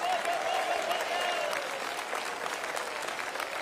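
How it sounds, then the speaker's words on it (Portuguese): A church congregation claps hands together in continuous, dense applause, fairly faint and steady throughout, with a voice faintly audible beneath it. "batam palmas e glorifiquem a Jesus"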